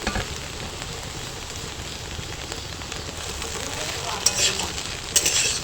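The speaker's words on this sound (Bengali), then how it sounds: "একটু নাড়াচাড়া করে নেবো সব কিছু মিশিয়ে নেবো একসাথে" Potatoes and okra with poppy seeds being stirred in a frying pan for a spicy dry aloo bhindi, giving a steady soft sizzle with a few sharper scraping clinks near the end.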